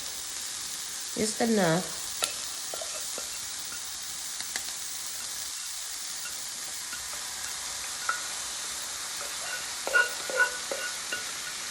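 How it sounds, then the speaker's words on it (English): Sauce hits a hot pan of shrimp and cauliflower rice stir fry, giving a steady, close sizzle and hiss throughout, with a brief bubbling burst near the start and a few soft utensil clicks. A voice speaks briefly. "I'm getting ready to pour the sauce on."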